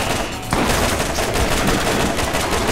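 Dense, continuous automatic gunfire from the video game Borderlands, loud and sustained throughout with no pauses, swelling slightly after the opening half second.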